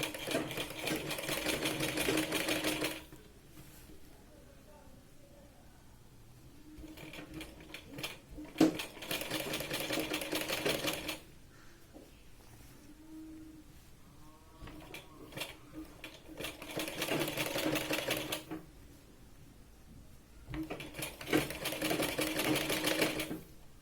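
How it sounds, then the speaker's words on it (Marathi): A sewing machine double-stitching the sleeve seam of a Punjabi dress, running in three steady, fast-whirring bursts of several seconds each, with quiet pauses and soft handling between, close and clear. "या पॉईंटपासून सुई बाहेर न काढता आपण परत इथे डबल शिलाई लावून घेतोय"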